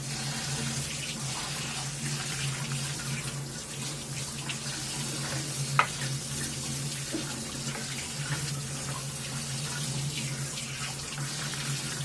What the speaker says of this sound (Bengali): চালটা ভালোভাবে ধুয়ে নিচ্ছি।